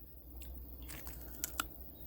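Fresh olive-like fruit picked straight from the tree being bitten and chewed up close, a few soft crunches with two sharper bites standing out briefly, no talking.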